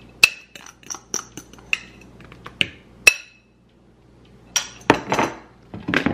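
Banana bread batter being mixed with oil in a bowl, a series of sharp clinks and taps of a utensil against the bowl, irregular and close, with a short pause midway.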